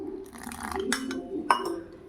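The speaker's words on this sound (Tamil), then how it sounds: "இப்போ தண்ணி சேர்த்துருவோம்." Water is poured into wheat rava dosa batter in a glass or steel vessel, already salted, giving a brief liquid splash with a few light clinks and knocks. The sound is close and quiet, with no talking.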